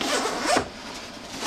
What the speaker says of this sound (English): these zippers, this bag is advertised that these are self-repairing zippers